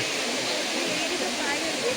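Tatiguda waterfall roars as a steady, broadband rushing wash of falling water, constant and fairly soft in level, with no breaks or other sounds standing out.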